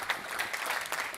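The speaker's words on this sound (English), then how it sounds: "Let's everyone give a round of applause to Raj." An audience at a tech conference gives a short burst of applause, a brief patter of clapping that is fairly quiet and somewhat distant.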